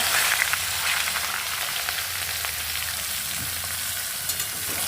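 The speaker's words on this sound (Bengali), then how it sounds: "এই পর্যায়ে আমি আস্তে আস্তে সবজিগুলো দিয়ে দেব" Vegetables frying in hot oil spiced with whole-spice tempering, a steady close sizzle with faint stirring scrapes throughout, no talking.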